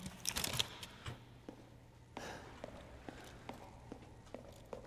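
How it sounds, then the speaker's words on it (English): Player character's footsteps in the horror game Resident Evil Village, a quiet, even series of soft steps on a hard floor over a low hum, with a few brief handling clicks at the start. "I've learned that when I turn, those are my footsteps."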